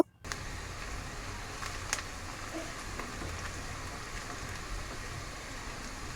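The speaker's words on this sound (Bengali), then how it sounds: "দেন পেঁয়াজগুলোকে হালকা গোল্ডেন কালার করে ভেজে নিব।" Chopped onion frying in soybean oil in a frying pan for a sea-fish bhuna, giving a steady, even sizzle with a soft crackle throughout and no talking.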